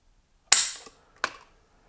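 An AR-15 trigger, on an LMT MRP-L Shovelnose piston-driven rifle, is pulled against a Lyman trigger pull weight gauge, giving two sharp, close, metallic clicks about three-quarters of a second apart in otherwise quiet surroundings.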